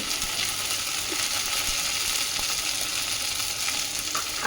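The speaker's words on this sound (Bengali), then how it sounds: "আদাটা চিটকাচ্ছে" Ginger sizzles and splutters in hot oil in a pan with green chillies and turmeric, a steady dense crackle that stays loud and even throughout with no voices.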